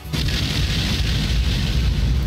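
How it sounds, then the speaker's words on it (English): Missile explosions in the Princess Waltz visual novel game: a continuous loud, rumbling barrage of blasts with heavy low-end boom and hissing crackle, sustained without pause. "The explosions are slowly inflicting damage on her leg."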